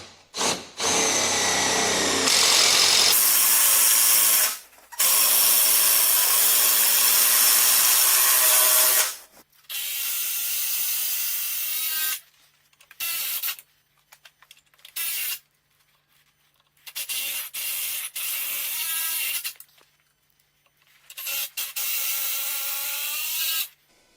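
Cordless power drill driving bolts to mount a 36V lithium battery, several loud close whirring bursts of a few seconds each, separated by short silences.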